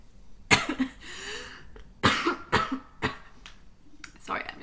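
Several sharp coughs up close, a couple in quick succession, with breathing and throat noises between them.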